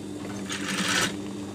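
A sewing machine runs steadily, stitching bias tape onto the curved edge of a flower-shaped pillow, its rapid needle clatter swelling briefly in the middle and heard up close with no talking.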